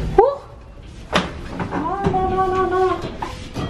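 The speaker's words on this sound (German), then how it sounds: "Wieder zugegangen, die Tür." A hotel door on Gran Canaria swings shut with a single sharp thud, followed by a voice-like tonal sound.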